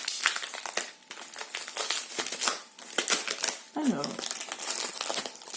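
A plastic-wrapped package is torn open and crumpled, loud crinkling rustles and tearing close by while someone talks in French over it.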